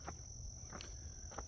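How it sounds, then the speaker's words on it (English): Faint chirps from a frog in a stream down a hill, three short calls spaced about evenly apart against a quiet outdoor background with a constant high insect-like hum. "I just heard a frog chirp in the stream down the hill here from me."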